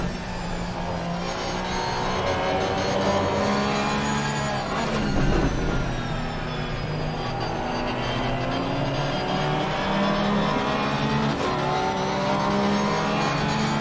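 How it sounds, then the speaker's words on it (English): Porsche 296 race car in a racing video game at Hungaroring, its engine droning loud and steady with rising and falling pitch through shifts, other cars faintly mixed in. "What a noise from this car."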